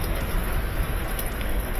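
Rain falling on a chilly spring day, a dense, steady patter with a low rumbling undertone, continuous and fairly loud with no voices.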